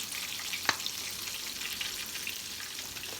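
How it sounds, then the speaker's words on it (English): Lemon juice and honey heat in a pan toward a light simmer, giving a soft, steady sizzle and bubbling with one brief clink of a utensil early on. "we're just going to bring this to a light boil or simmer"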